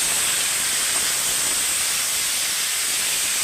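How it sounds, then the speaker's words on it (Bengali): Chili paste fries in a hot pan, a loud steady hiss and sizzle of spitting oil that holds constant throughout without any voice over it. "লঙ্কা বাটা দিয়ে একটুখানি সামান্য আরও এক মিনিট এক মিনিট ভেজে নেবে"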